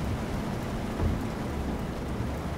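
Heavy rain with rumbling thunder in the trucking game Euro Truck Simulator 2, a dense, loud, constant downpour hiss with a deep rolling rumble underneath, no voices.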